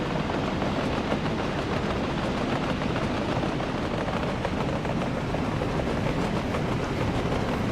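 A train runs along a railway in the game Workers & Resources: Soviet Republic, a dense, steady roar of rolling wheels and faint rhythmic clatter that fills the whole stretch without a break.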